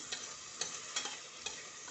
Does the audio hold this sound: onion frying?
yes